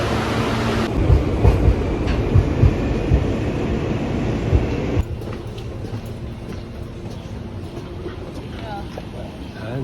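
A New York subway train rolls along with a close, loud rumble and rhythmic clatter, easing to a quieter, steadier hum about halfway through, with people talking in places.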